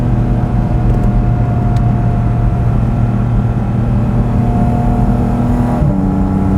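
Porsche 718 Spyder RS engine in third gear, a loud steady low drone and hum sustained throughout, close by with a slight pitch change near the end and no talk.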